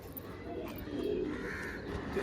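Pigeons offered for sale coo softly in the background, a faint low murmuring with a few quiet calls over steady room noise.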